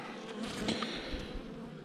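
Honeybees hum at an open hive during an inspection, a soft, dense buzz of many insects close by, steady with small swells, no voices.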